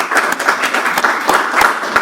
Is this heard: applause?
yes